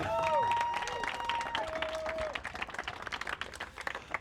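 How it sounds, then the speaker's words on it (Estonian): Applause and cheering for participants at a youth karting race event, steady crowd clapping with whistles or horn tones over it in the first half, thinning into looser claps. "Hurraa ja aplaus kõigile, kes täna osalesid."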